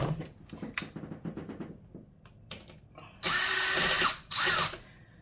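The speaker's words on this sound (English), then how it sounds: "And then we're going to screw it right in." A power drill drives a screw into a display case, preceded by handling clicks and knocks, then two loud, steady whirring bursts up close.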